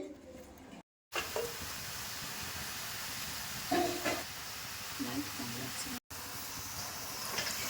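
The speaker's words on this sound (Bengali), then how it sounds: "বিরিয়ানির জন্য মাটনটা একটু কষিয়ে নিচ্ছে" Mutton pieces sizzle and spit in hot oil in a wok as they are braised for biryani, with a continuous close-up frying crackle and a few brief breaks and stirring clatters.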